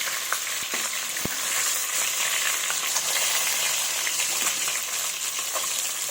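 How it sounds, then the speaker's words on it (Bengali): A big fish head fries in a generous amount of oil, producing a loud, even, continuous sizzle with faint crackles and an occasional soft tap, close and alone. "ওই জন্য একটু বেশি পরিমাণে তেল দিয়েছি। এইভাবে ভেজে নিচ্ছি।"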